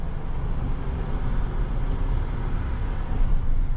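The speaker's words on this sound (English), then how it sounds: "That engine sounds good." A steady low engine rumble with road noise, heard from inside a moving 2025 GMC Sierra 1500 Denali pickup truck, continuous and fairly loud.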